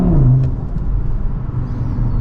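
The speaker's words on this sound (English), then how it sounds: "you want to hear sound, a Krapovic exhaust in the back" A 450 hp VZ5 BAT Edition car with an Akrapovic exhaust revs briefly, a deep low rumbling engine swell that starts strong and settles into a steady growl, close by and loud.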